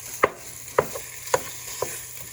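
Ground hamburger, a little over half a pound, browning in a pan, with a soft sizzle beneath four distinct scraping clacks of a utensil spaced evenly about half a second apart, close and fairly quiet.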